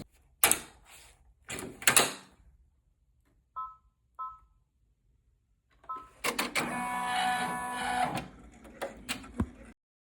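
An embroidery machine stitches a cocktail napkin in the hoop. Short mechanical clicks and bursts come first, then a couple of seconds of steady whirring and rattling stitching, followed by a few final taps.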